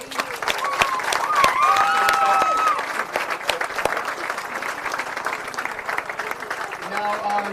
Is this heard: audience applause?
yes